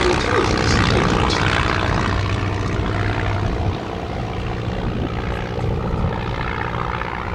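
Vintage Stampe and de Havilland Tiger Moth biplanes fly a display at Old Warden, their propeller engines droning steadily at moderate distance with a smooth, sustained hum and no talking.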